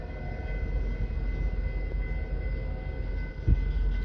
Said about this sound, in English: we have an eastbound stack train approaching